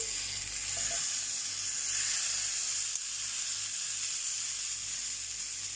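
Beef gola kebab mixture hitting sautéed vegetables in a hot pan, a steady close sizzle and hiss that holds evenly throughout with no talking.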